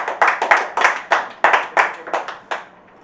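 A small group claps hands for about a dozen sharp, uneven claps spread over three seconds, close and fairly loud, in a casual setting with hosts introducing performers, with no voices over it.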